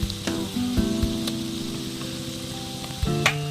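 Chopped onions and turmeric fry in a pan as the base for a chicken curry, with a continuous close sizzle over a low steady hum and a few sharp clicks near the start and end.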